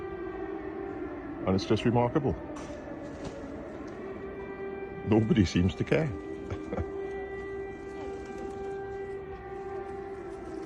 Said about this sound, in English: that's the air raid sirens going off